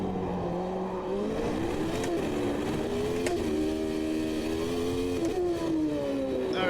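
A race car engine in the Automobilista 2 sim recreating the 1993 Australian Grand Prix drones loud and steady, pitch rising and dipping through gear changes as the car is pushed hard on track.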